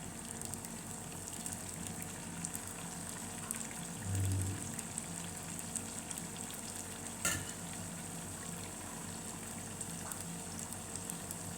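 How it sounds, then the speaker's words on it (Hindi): Potato snacks deep-frying in a batch of oil, a constant soft bubbling sizzle at low level with a brief low rumble and one sharp tap midway. "इस तरह से सारे बैच को हम तल लेंगे"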